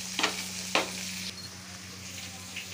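Chopped onions sizzling in hot oil in a kadhai, a steady crackling fry close by, opened by two sharp stirring scrapes and settling into a softer hiss over a low hum.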